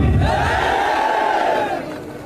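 A large, fired-up crowd at a BSP election rally in Rewa, Madhya Pradesh, shouting Jai Bhim in unison, one loud sustained chorus of voices that fades out after about two seconds.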